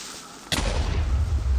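Sudden loud blast from a Minecraft creeper explosion in the video game, a sharp broadband burst followed by sustained loud rumbling noise.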